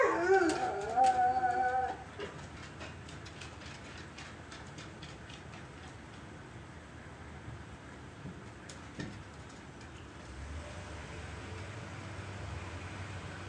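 Dogs reacting to an injured cat, howling and whimpering in the first two seconds, then a faint outdoor background with distant noises and a low rumble near the end.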